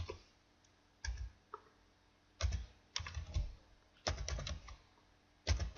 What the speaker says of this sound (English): So right now I'm typing in test scores.